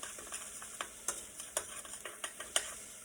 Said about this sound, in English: You want to give our onion and garlic a stir.